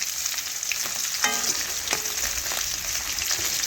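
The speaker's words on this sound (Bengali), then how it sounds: "আর মাছটা একটু কিন্তু কড়া করে ভাজতে হবে" Pieces of katla fish fry crisply in hot oil, a steady close sizzle and crackle with a few sharp clinks of a utensil turning the pieces.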